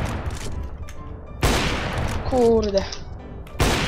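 Gunfire from the video game CS:GO crackles in sharp bursts over steady game noise, with someone speaking briefly between shots.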